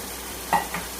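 Garlic ginger paste hits hot oil in a pan for chicken biryani, giving a steady close sizzle with a brief burst of spattering as it goes in and a softer stir after.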